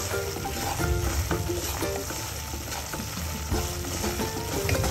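Semolina (rava) roasting in a pan, a continuous close dry sizzle with frequent scraping and stirring knocks from a spoon, steady and fairly loud.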